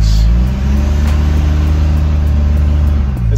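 A Cummins diesel engine idles close by with a loud, steady low rumble and a slight rise in revs, alone without talk.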